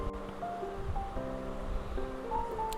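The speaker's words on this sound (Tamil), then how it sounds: "நான் ஒரு 2 மினிட்ஸ் பாயில் பண்ண விட்டுருக்கேன்." Vegetables and meal maker boil in a pot for vegetable biryani, giving a steady bubbling, seething hiss with a faint tonal hum underneath, continuous and close throughout, with no talk.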